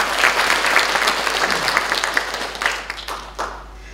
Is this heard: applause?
yes